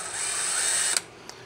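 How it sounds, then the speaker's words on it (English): A DeWalt DCD1007 hammer drill whines steadily at high speed for about a second, loud and close, then cuts off abruptly with a faint click afterward. "This is the DCD 1007. So it's a very powerful drill."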